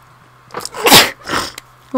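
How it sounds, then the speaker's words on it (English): A person sneezes twice in quick succession, close and loud, each burst a sharp breathy explosion against a quiet background with a faint hum. "I've got the sneezes now"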